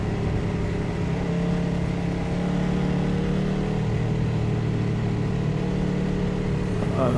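A KTM 1190 RC8 R motorcycle engine drones steadily on a warm-up lap around a racing circuit, ridden gently at an even pace, its loud, continuous hum close and unbroken throughout with no speech.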